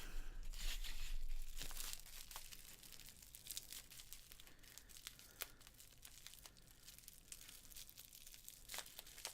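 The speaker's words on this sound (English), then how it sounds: "Now for the sounds of all the tape ripping." Packing tape being torn off a box of crystals during an unboxing, continuous close crinkling and ripping with occasional sharp snaps, steady and fairly loud, no talk.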